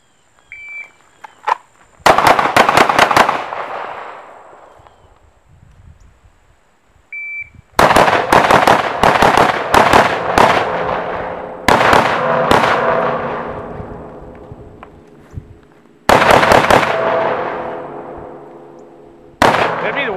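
Handgun shots ring out loudly in quick bursts of several rounds during a close-quarters shooting drill, each burst preceded by a short electronic start beep, with quiet pauses between the strings.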